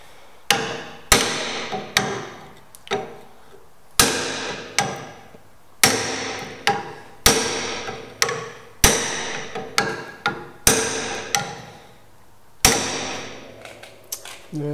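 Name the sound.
hammering down a car body panel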